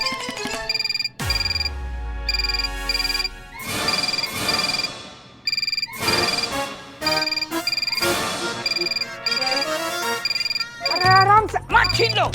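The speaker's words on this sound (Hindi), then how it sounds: "ये फोन मेरा है। हमारी डेस्क पे बजा।" A phone rings repeatedly on an office desk, its bright electronic ringtone pulsing in short bursts, loud and close, with people talking over and between the rings.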